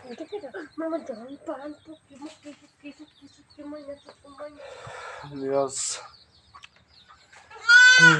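Short, thin bleats from an injured goat kid come in a few bursts, the loudest at the end, with a person talking between them.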